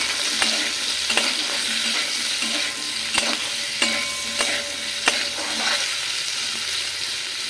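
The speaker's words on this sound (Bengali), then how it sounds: "আলুটাও ভেজে নেব।" Potatoes frying in a pan with cauliflower make a loud, continuous hiss and crackle of hot oil, broken by close scraping stirs of a spatula at irregular intervals.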